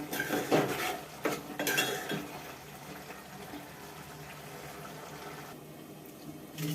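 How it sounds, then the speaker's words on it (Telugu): Metal spoon stirring an egg, ridge gourd and dried fish curry in a pot after coriander is added: clinking scrapes against the pot early on, then softer stirring and a faint watery background, close and without talking. "కొంచెం కొత్తిమీర జిమ్ముకుందాం కలుపుకుందాం"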